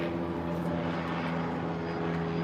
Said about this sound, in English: I'll let you guys watch the helicopters on over Los Olas